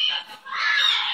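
A pet bird lets out a loud, harsh squawk close by, a raspy call with a brief dip before a longer sustained screech.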